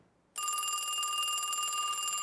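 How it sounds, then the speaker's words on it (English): Telephone bell ringing steadily and loudly in a radio drama sound effect, starting abruptly after a brief silence and continuing as an unbroken metallic trill. "Get away from that phone, Alice."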